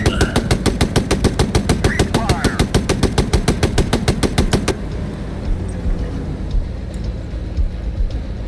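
In the PC game Gunner HEAT, a loud machine gun fires a long rapid burst of evenly spaced shots. It stops abruptly and leaves a low vehicle rumble with scattered faint clicks.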